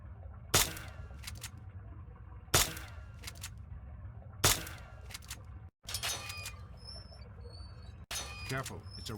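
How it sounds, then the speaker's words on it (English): BB gun in Fallout 3 firing four sharp, separate shots a couple of seconds apart, each a single crisp crack, with quieter game ambience between them. "Think you can take care of that with your BB gun? Just aim and shoot."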